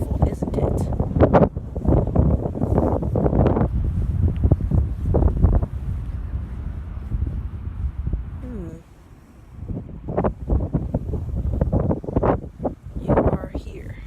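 Strong wind buffets the microphone on a beach trail leading down to the shore, a loud steady rumble that swells and gusts throughout, with people talking over it.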